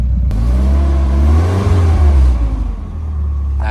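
A Nissan 240SX idles with a steady, close low engine rumble while being put in reverse, its tone rising and swelling slightly mid-clip before settling again.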